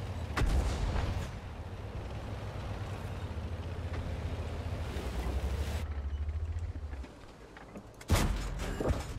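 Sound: tank gunfire in the video game World of Tanks

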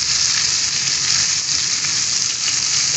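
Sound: stuffed okra frying on high flame

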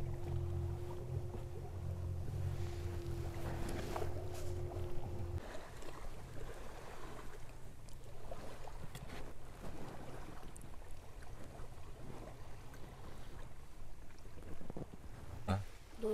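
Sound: strong wind blowing from the lake

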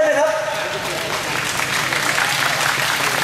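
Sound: audience applause at an event

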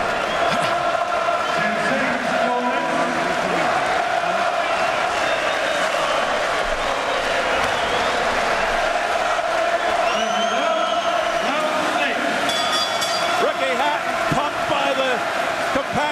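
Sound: boxing arena crowd cheering

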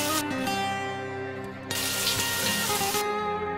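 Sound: shower running water

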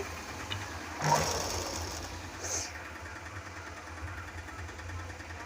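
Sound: sewing machine stitching blouse lining

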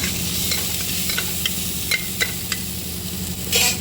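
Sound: onion and green chili stirred while frying

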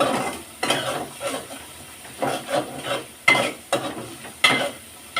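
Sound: shrimp frying in a pan

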